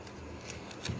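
Scissors snip through excess tape on a small paper magic ball, a quiet close crisp cut or two with a brief soft rustle, alone.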